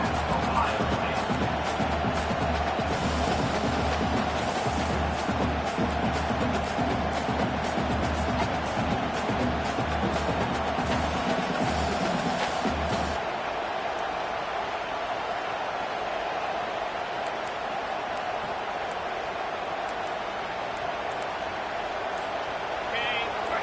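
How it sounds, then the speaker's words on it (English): A football stadium crowd roars steadily near the goal line ahead of a late defensive stand, a dense continuous wash of noise that thins somewhat midway, with a commentator's voice over it. "And the crowd really making some noise now, trying to help out this defense to get this stop near the goal line."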